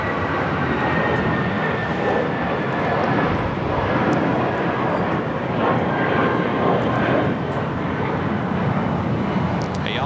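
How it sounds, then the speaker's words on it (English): Cathay Pacific Boeing 777-300ER airliner arriving from Hong Kong, a loud, steady broadband engine roar that fills the whole stretch without letting up. "Have a second Cathay Pacific 777 at 300ER coming in from Hong Kong."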